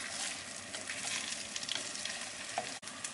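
Pasta and potatoes, Apulian style, stirred in a pot: continuous close sizzling with soft scraping stir sounds, steady and unbroken for a few seconds, no voices.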